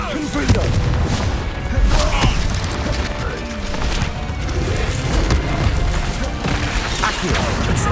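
Confringo blasting-spell explosions in Hogwarts Legacy go off as repeated booms and crashes amid a dense, constant clatter of game effects. A voice casts spells over them.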